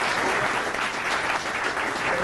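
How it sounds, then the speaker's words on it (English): A big audience gives a steady, loud round of applause at a lecture on the Federal Reserve and the financial crisis, dense and continuous from start to finish with no talking. "First, a big round of applause."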